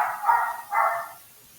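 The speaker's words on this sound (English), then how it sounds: "that's Lucky barking" Dog barking twice, two short mid-pitched barks close together, moderately loud over a quiet background, then fading to stillness.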